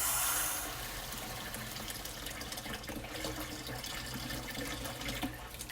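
Water runs steadily from a tap in a continuous hiss, moderately close, with no voices.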